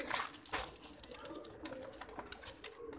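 A young pigeon coos softly in a noisy outdoor setting, low and intermittent beneath a constant hiss of background sound.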